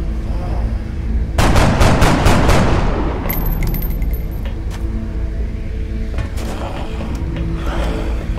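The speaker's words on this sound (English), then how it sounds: "He shot faster that time." Gunfire in XCOM: Enemy Unknown, a loud rapid burst of shots followed by ringing electronic tones and a few scattered later impacts over a steady game soundtrack hum.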